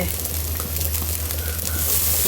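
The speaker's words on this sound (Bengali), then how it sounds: "আস্তে আস্তে করে সুন্দর করে ভাজতে হবে" Steady crackling sizzle of green chillies and ginger frying in a pan, continuous and close, with a low constant hum underneath and no voices.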